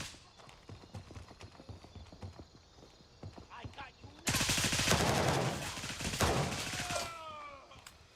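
Rapid gunfire from a magazine being emptied in the video game Gray Zone Warfare, a dense loud burst of shots lasting a few seconds after quieter scattered sounds, with a voice speaking.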